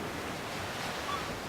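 River water flowing in the video game Ark Survival Evolved, a steady broadband rushing wash that holds constant throughout, close and uninterrupted with no voices.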